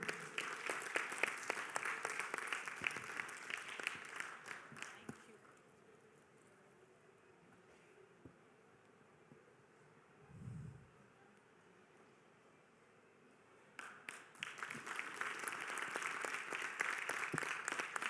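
Loud applause breaks out for a guest welcomed on stage at a youth parliament session, fading after about five seconds into quiet murmuring, then a fresh burst of clapping returns near the end.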